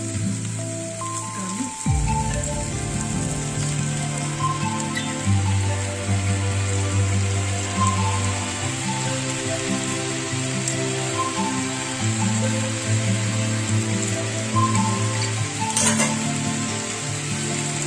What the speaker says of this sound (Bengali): আমি এখন এর মধ্যে দিয়ে দেবো পালং শাক